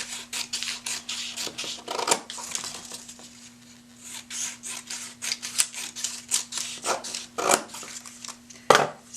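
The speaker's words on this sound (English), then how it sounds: "So I've cut all of the strips that I need for my word weave" Scissors snipping paper strips for a word weave, a close run of quick crisp cuts and rustles in uneven bursts, with a few louder snips and a steady low hum underneath.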